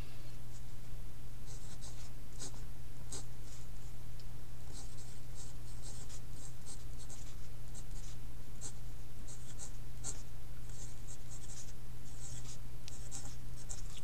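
Writing by hand during a mechanics lesson, a run of quick, sharp pen or marker taps and strokes over a constant low electrical hum, with no talk over it.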